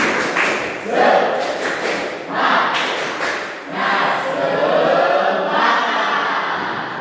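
Schoolchildren in an Indonesian Islamic religion classroom do a rhythmic clapping chant, with bursts of claps and voices in repeating phrases. The group sounds close and lively, with short dips between the rounds.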